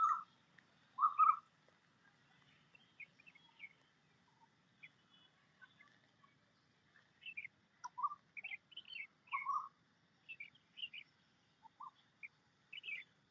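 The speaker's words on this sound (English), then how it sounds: "I help you now to listen to a particular bird sound." Wild birds calling outdoors during a morning nature observation: scattered clear whistled chirps and short phrases, some repeated, against a very quiet background, sparse at first and busier later.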